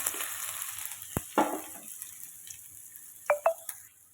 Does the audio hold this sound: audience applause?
no